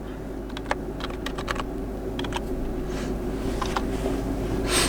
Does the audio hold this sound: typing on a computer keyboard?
yes